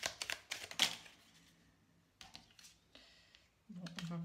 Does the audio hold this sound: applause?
no